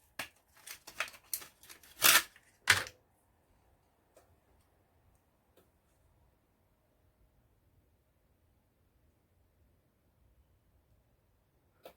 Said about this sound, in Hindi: अब हम इसको रैम को पुश करके सॉकेट को आसानी से इसमें इंसर्ट कर देते हैं